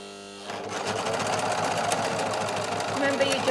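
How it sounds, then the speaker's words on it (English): Overlocker running steadily while its blade trims the edge of fabric, a dense mechanical whir starting after a brief pause and continuing throughout, with a voice talking over it. "Lift the presser foot up, put the fabric underneath, run the blade along the edge of the fabric."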